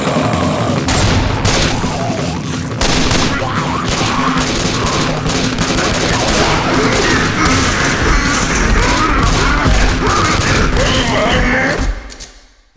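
Sustained heavy gunfire in a game trailer shown at Microsoft's E3 2009 press conference, loud fusillades of machine-gun bursts and booming thuds with a voice over the barrage, cutting out abruptly at the end.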